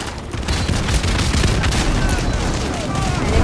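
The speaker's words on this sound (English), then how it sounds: "So let's just say we throw a single grenade, right? Now a bunch of little grenades come out of it." Cluster grenade explosions in the video game Call of Duty Modern Warfare 2: a rapid, dense string of overlapping booms and crackling blasts, loud and continuous over rumbling game noise.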